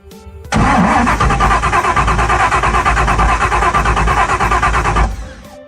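An LS-swapped Toyota 4Runner, a third-generation truck with a 5.3 V8, cranks briefly and fires up loud and close, then runs at a steady idle for several seconds before cutting off.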